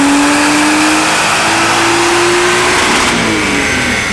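A supercharged BMW engine revs on a dyno with variable valve timing engaged, a loud continuous mechanical roar whose pitch climbs steadily through the pull before easing off near the end.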